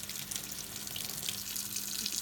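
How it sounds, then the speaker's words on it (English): Warm water runs steadily from a kitchen tap in a continuous, fairly quiet hiss and splash with no talking. "a little trick to get this out of the cup is to pour some warm water"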